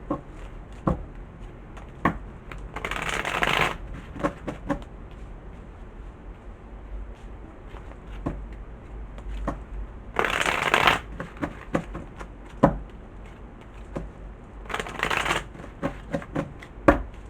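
A deck of tarot cards is shuffled close up, with three bursts of riffling and fanning spread through, and steady soft taps and shuffles between them, with no talk.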